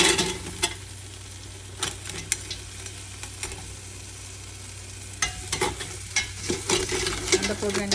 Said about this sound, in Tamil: நண்டை போட்டு நல்லா பிரட்டி விட்டுட்டு ஒரு நிமிஷம் அப்படி மூடி விடணும்.